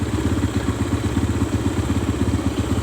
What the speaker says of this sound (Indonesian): di sini hidup ya, mesinnya bisa hidup